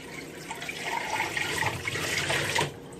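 Ice-cold water is poured out of a bowl into a sink, a steady splashing gush lasting about two and a half seconds before stopping abruptly.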